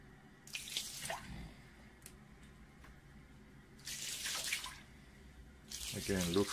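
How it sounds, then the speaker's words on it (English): Lukewarm water pours and trickles onto a SkyWatcher 300P telescope mirror in three short bursts, with faint drips between them and a gurgling splash at the end, close and quiet. "Let me just apply a little more water."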